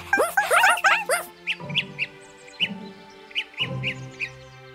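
Cartoon birds in an animated children's show chirp in quick bright bursts, a busy flurry at first and then spaced single tweets over a soft musical backdrop, close and clear.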